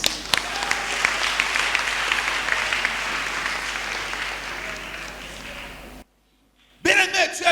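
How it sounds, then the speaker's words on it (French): A church congregation claps and cheers loudly and steadily in praise of Jesus Christ, a dense sustained roar that cuts off abruptly into near silence before a short burst of noise returns. "Oh, acclame Jésus-Christ."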